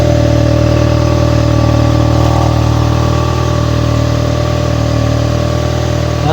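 A Toyota Fielder car with a 1.5L engine and a single exhaust pipe idles up close, a loud, even, steady hum that holds for several seconds with no voices.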